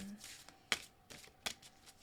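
Tarot cards are shuffled by hand in a few quick riffling bursts with soft slaps between them, close and fairly quiet, with a faint hum underneath.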